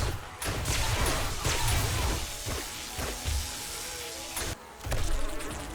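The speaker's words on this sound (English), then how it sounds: "Get out of here, bees." A swarm of bees in the survival video game 7 Days To Die buzzes loudly and steadily, a close, droning hum broken by a few sharp impacts, with no talking.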